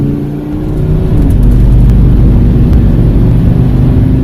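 Straight-piped, modified VW Touareg V10 TDI accelerating hard from a standstill toward 60 mph, a loud, continuous deep engine roar that swells and holds steady, heard from inside the vehicle.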